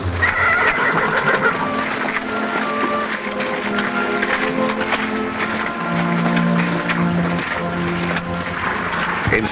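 A horse neighs and whinnies repeatedly against a busy outdoor Western setting, the calls layered with background sounds and possible hoof clops at moderate distance.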